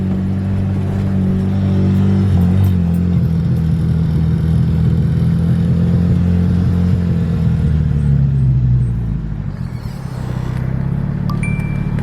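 Loud, droning engine of a turbocharged BMW E36 pulling hard in a gear, pitch climbing steadily from close by before easing off near the end.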